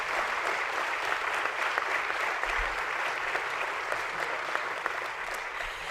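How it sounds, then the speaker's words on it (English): Steady applause from an audience at an exhibit's opening evening, thanking the sponsors; dense, even clapping fills the room for the whole stretch at a constant level. "Let's give a round of applause to all of our generous sponsors."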